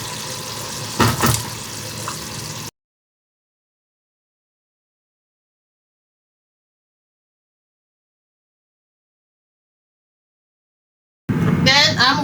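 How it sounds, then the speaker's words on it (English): Yam pottage sauce bubbles and sizzles in a pot in a home kitchen, a rough, steady boil for a couple of seconds, mixed with some talk, then falling abruptly silent before a voice returns at the end. "So like the sauce is boiling, I'm gonna add yam."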